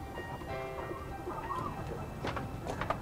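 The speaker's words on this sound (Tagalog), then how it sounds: "Mayroon din silang manukan." Chickens in a clean backyard coop in a Philippine residential village cluck and coo faintly, with short scattered calls over low background noise.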